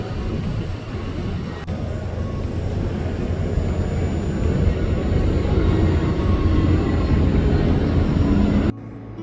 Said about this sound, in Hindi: हम यहाँ से प्लेन के टेक ऑफ और लैंडिंग एंजॉय कर रहे थे